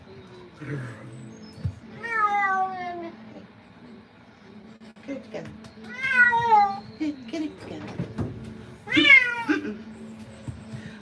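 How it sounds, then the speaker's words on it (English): Three long, low grumbling yowls from a cat being groomed, spaced several seconds apart, close by, with a person speaking briefly between them. "When a cat goes low with their voice"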